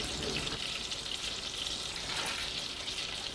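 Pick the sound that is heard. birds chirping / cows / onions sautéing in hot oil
onions sautéing in hot oil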